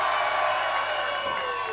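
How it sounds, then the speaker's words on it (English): A crowd cheers and shouts at a cage fight, a dense sustained roar of many voices with a few whoops rising above it. "There's the crowd."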